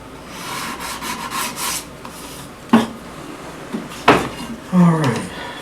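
By hand, someone rounds over the edges of a wooden raised-panel keepsake box, making close, steady rasping strokes. A few sharper scrapes and knocks break through the rubbing.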